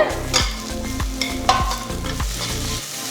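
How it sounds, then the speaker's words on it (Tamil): Crushed ginger and garlic fry with onions as a spoon stirs them round the pan, giving a loud, close sizzle with rhythmic scraping strokes about every half second and no voices. "இப்போ அதை சேர்க்க போகிறேன் போட்டு நல்லா மிக்ஸ் பண்ணிவிடுங்க"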